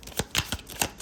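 Tarot cards sliding out of a deck, a quick run of soft papery flicks and rustles, close and alone.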